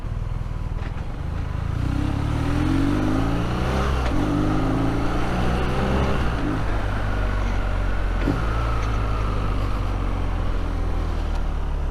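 A 2021 BMW R nineT motorcycle engine under way, loud and close, with a steady low drone that rises and falls through several gear changes and throttle surges as the bike accelerates.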